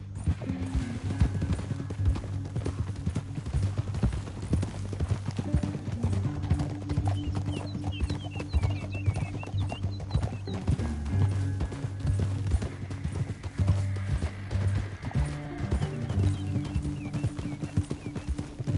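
Rapid, steady clip-clop of galloping horse hooves in a video game (Red Dead Redemption 2), continuous and close, over a low droning music-like hum with occasional whinnies.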